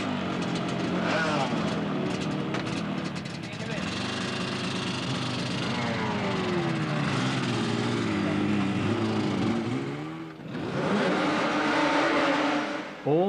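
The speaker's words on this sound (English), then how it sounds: "The kick-start of the production Yamaha of Rob Orme" A production Yamaha racing motorcycle is kick-started and pulls away at a 1983 Silverstone club race, its engine revving loudly with sweeping pitch changes over other bikes, while a commentator talks throughout.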